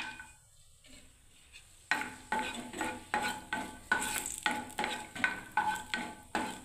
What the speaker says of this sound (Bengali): কাজুটাকে ভেজে নিচ্ছি